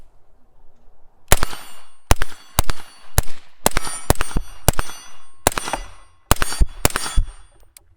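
An HK MR 223 rifle fires about a dozen sharp, loud, cracking shots in an uneven sequence, each a hard percussive report with a brief ringing tail, outdoors with no talking between shots.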